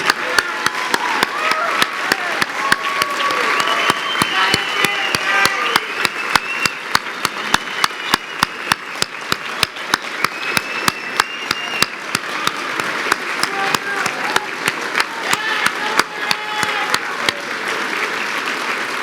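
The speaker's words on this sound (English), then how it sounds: "Give them a round of applause" A large audience at a Sterling Scholar awards ceremony gives a long, steady round of applause for the scholars' advisors, with many hands clapping in a continuous close wash and no talking.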